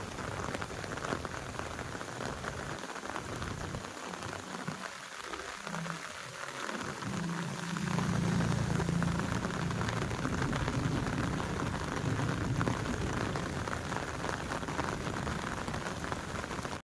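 Heavy rain hisses continuously near a flooded drain during the last downpour of the year, loud and close with a dense roar of drops, briefly swelling louder midway and no voices.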